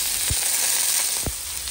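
Costco barramundi fillets fry in hot oil in a pan just after being flipped, giving a loud, dense, continuous sizzle up close with two brief low thumps.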